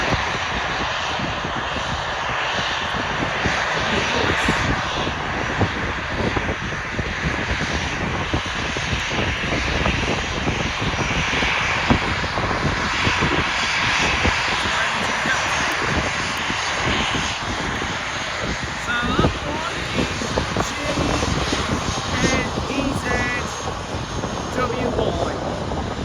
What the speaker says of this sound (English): Oh, Emirates is just about to taxi. That's just about to make its way to runway.